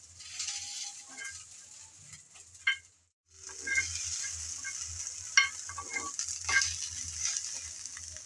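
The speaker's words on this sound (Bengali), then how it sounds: "নেড়ে চেড়ে আমি ভালোভাবে বেজে নিলাম" Green chillies stir-fry in a dry pan without water for a Bengali chilli bharta, a steady close sizzle with scraping stirs and a few sharp clinks, pausing briefly near the middle before resuming.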